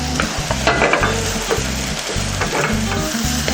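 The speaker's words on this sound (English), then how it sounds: "You want to break the meat so that way it cooks nicely together, okay?" Meat with artichokes and onions fries in a pan, a loud steady sizzle broken by regular scraping stirs as the meat is broken up, close and without talk.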